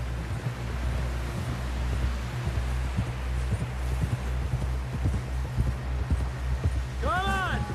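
Steady horse hooves clip-clopping at a walking pace in Red Dead Redemption 2, close and continuous over a rustling outdoor ambience, with a short whinny near the end.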